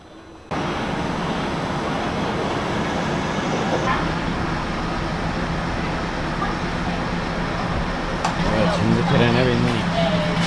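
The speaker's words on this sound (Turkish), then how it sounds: "Trene bindik." A train at a station in Thailand, a loud continuous rumbling roar of rail and machinery noise starting abruptly and holding steady, with some clanking and a brief squeal near the end.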